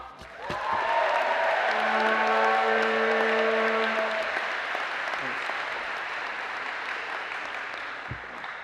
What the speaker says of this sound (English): Please give a warm, rousing applause for Coach Carlson.